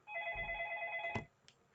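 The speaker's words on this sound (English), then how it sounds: "I've just got the phone going off" A telephone rings once in a steady electronic trill lasting about a second, fairly close, followed by a short click and quiet.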